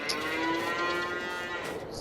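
Cows mooing in the video game Farming Simulator 22: a single drawn-out, moderately loud low moo that holds steady for about two seconds, with no talking over it.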